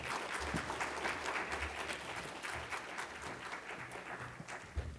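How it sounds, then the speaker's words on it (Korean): Church congregation clapping to welcome a pastor to the pulpit, dense steady applause filling the room at an even level for several seconds, with no voices above it. "우리 큰 박수로 환영하겠습니다"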